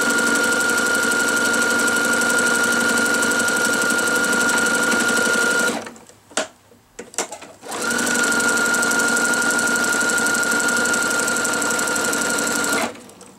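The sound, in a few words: sewing machine stitching quilt binding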